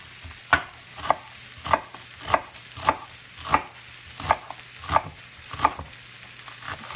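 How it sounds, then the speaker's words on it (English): A knife chops onion and vegetables on a cutting board for a quick salsa, about a dozen crisp, evenly spaced thwacks close up, with a faint steady sizzle of oil in a pan underneath. "Knife chopping, the food sizzling, my eyes watering from the onions."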